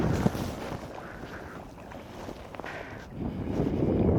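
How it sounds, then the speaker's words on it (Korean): Wind gusts across a Korean seashore during low-tide conch gathering, buffeting the microphone with a rough, rumbling roar that eases midway and then builds again, with no talk. "오늘은 바람이 불어요"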